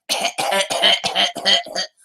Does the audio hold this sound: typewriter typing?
no